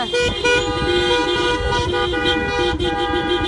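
Horns honk continuously and overlap over the steady rumble of a long convoy of cars and trucks on the road toward Brussels, loud and sustained throughout.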